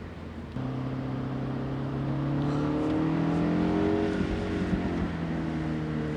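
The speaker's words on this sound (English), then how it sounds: "I love the burbles this engine makes." A MINI JCW Convertible engine burbles steadily and close by, its tone rising as the car pulls along a winding mountain road on a mild autumn day, with no voices.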